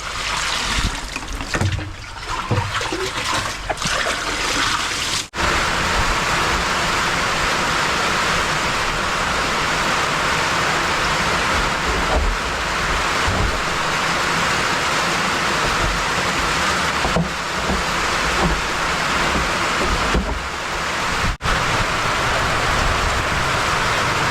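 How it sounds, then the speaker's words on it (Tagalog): Heavy rain pours steadily in a dense, loud hiss, with water splashing and a few faint knocks early on. "malalakas yung ulan mga kapahil"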